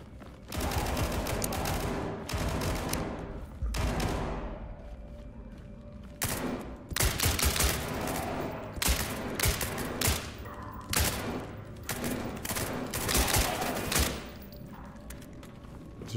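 An unsuppressed P90 submachine gun fires in an SCP-themed shooter video game: rapid, loud bursts of automatic gunfire repeat in clusters across the whole stretch, with brief gaps between volleys.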